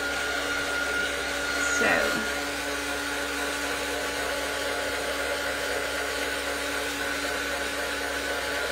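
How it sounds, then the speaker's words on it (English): A heat tool blows steadily to dry paint on an art journal page, a loud, continuous whirring hiss that runs the whole time with a brief spoken word near the start. "And I will heat dry it again, because yeah, well, the heat tool is very important to use."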